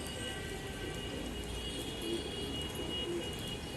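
A pet pigeon kept beside a house coos twice, soft and low, over a steady background hiss.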